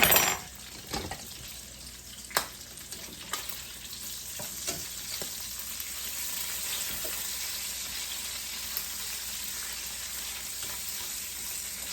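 Bacon frying in a pan, a continuous close hiss and sizzle with a few sharp pops and taps near the start, steady and fairly quiet with no talking.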